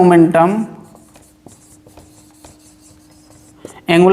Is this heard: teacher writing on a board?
yes